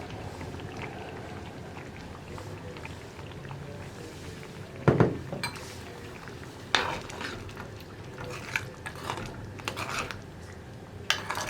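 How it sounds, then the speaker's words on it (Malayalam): Sweet Kerala-style pachadi mixed with curd in a pan, a soft continuous scraping hiss broken by several louder spoon clanks and stirring strokes against the metal, close and fairly quiet. "ഒന്ന് ഇളക്കി മിക്സ് ചെയ്യുക."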